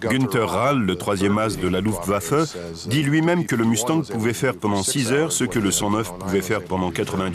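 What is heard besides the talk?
No everyday noises stand out.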